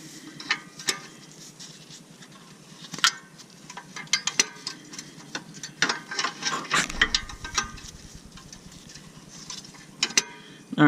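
A ratcheting wrench loosens the upstream O2 sensor on a 2003–2006 Honda Accord, its quick pawl clicks coming in irregular bursts with clinks and small tool noises close by.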